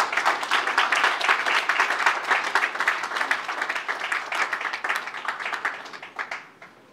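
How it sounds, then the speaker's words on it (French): An audience applauds at the launch of a national infrastructure project in Congo, with dense, lively clapping from a large crowd that gradually thins and fades out by the end. "On applaudit, s'il vous plaît."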